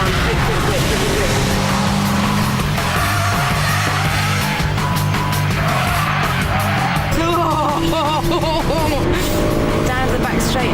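A Honda Civic Type R on a race track, with a loud engine revving hard down a straight, then tyres squealing under heavy braking into a corner, while someone talks excitedly over it.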